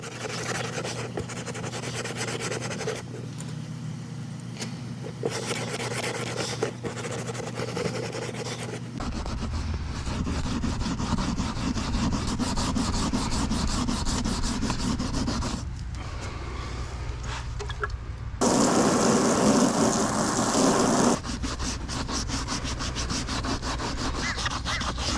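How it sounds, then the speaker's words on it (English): A sponge scrubber rubs back and forth over a wet pond liner in continuous, close scraping strokes that change in intensity, with a louder harsh stretch near the end. "So first I'll just use some water and rub this all, just to get it as clean as possible."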